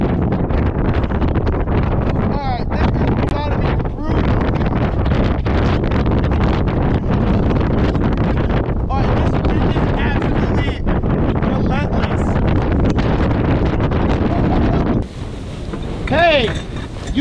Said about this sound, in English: You liking this wind, bud?